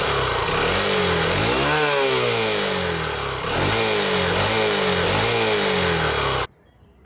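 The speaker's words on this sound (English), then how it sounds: "Exhaust note of this bike is also very throaty," Honda Shine SP 125 motorcycle exhaust revving in four rising-and-falling bursts, a throaty, close and loud engine note that cuts off abruptly near the end.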